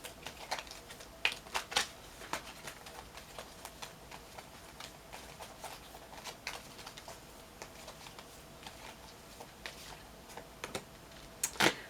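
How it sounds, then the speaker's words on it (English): Tarot cards being shuffled during a reading: a steady run of soft, quick riffling and tapping clicks, close and fairly quiet, with no voices. "So let's pull a last card for affirmation."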